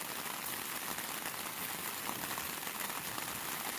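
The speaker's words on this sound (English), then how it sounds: "we've awakened to rain this morning" Steady morning rain falls at a hunting camp by the Waipakihi River, a soft, even wash of patter that continues without a break and stays faint and constant throughout.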